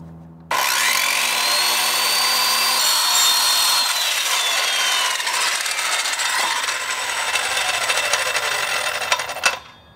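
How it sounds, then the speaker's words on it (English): A table saw rips through a wooden board for a cabinet fridge install in a Vanagon Westfalia, a loud continuous cutting whine starting abruptly, holding steady for about nine seconds, then stopping with a final clunk. "we got a straighter cut in the table saw"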